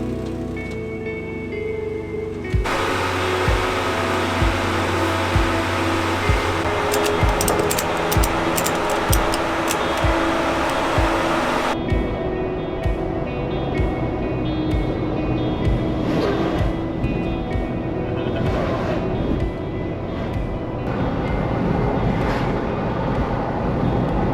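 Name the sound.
Jeep driving on the highway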